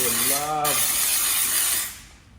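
Steamer spraying steam onto paint protection film on a Tesla Model Y Juniper, a steady close hiss that fades out near the end, with a brief voice heard under it at the start.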